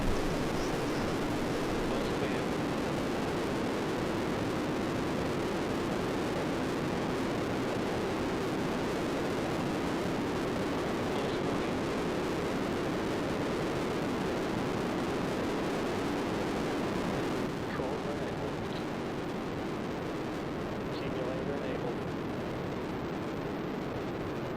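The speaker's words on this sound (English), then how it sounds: "We have ignition of NASA's Space Launch System 5-segment solid rocket booster." NASA Space Launch System five-segment solid rocket booster firing in a ground ignition test, a sustained loud roaring broadband rumble that holds steady throughout.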